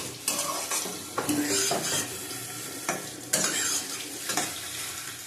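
Fish curry with eggplant is sautéed in a pan: oil sizzles steadily while a spatula scrapes and knocks against the metal in repeated stirring strokes, close up with no talk.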